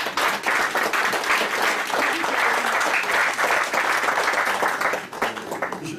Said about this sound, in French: presque t'applaudir